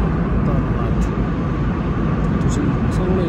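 Steady broadband cabin drone inside an airplane in flight, a constant loud engine and airflow rumble with no breaks, filling the whole clip.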